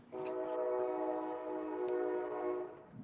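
A nearby train horn blows one loud, steady blast lasting about three seconds, alone with no voices, before it cuts off abruptly.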